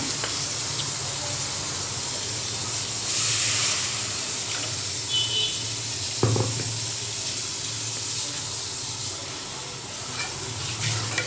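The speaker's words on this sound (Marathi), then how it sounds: "आता आपण पाणी ओतूया." Water poured into masala frying for an egg curry, giving a steady sizzle and hiss throughout, with a brief louder burst of steam partway through and faint stirring.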